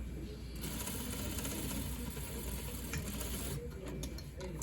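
An overlocker stitches a shirt pattern in a steady, continuous mechanical whir, its needle chatter running unbroken and fairly close throughout.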